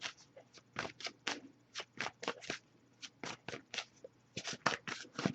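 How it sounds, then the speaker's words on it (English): Rapid bursts of cards being shuffled, a quick riffle repeated several times with short pauses, close and fairly quiet, no talking. "I'll give it a few more shuffles before we move on."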